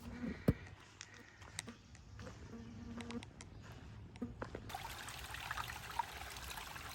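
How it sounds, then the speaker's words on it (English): A small waterfall trickles and splashes softly over rocks along a trail, faint and steady, with a few sharp knocks early on and a brighter rushing hiss toward the end. "Bit of a waterfall"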